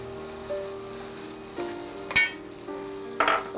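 Chopped onion hits a hot pan of frying sausage, giving a steady close sizzle with a few sharp stirring clatters and bursts of crackle partway through.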